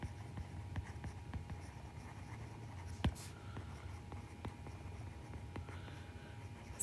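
Chalk or marker writing on a board during a chemistry lecture on equilibrium, with faint scratchy taps and short strokes over a low room hum, quiet and steady with no talk.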